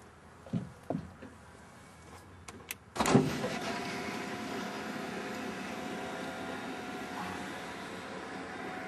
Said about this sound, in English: There's your fully electric moonroof.